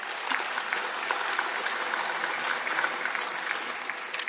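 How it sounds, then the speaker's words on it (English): An audience at a scholarship awards ceremony claps in a sustained, even round of applause from many hands, dense and fairly close, with no voices standing out. "So, another round of applause for you all."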